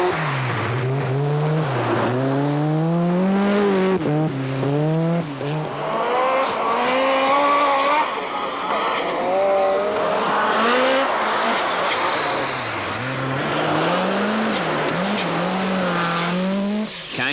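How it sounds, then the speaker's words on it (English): Rally cars from the 1986 Swedish Rally on studded snow tyres race across a frozen lake, engines loud and close, revving hard with repeated rising and falling pitch as they power past. "the tyres become skates as the cars power across a frozen lake"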